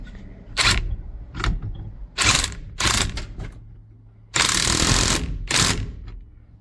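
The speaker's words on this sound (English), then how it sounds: "Then I'm gonna take my impact and just tighten it back down." Impact wrench tightening a nut back down on a 1973-79 Ford truck, fired in several short bursts of whirring hammering with brief pauses, the longest burst near the end, close and loud with no talk.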